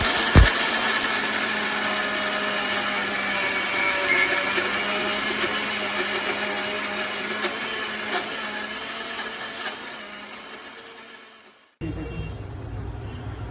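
A blender grinds dry spice ingredients for East Indian chicken curry, a steady loud whirring motor held for about eleven seconds before it cuts off abruptly, leaving a quieter hum.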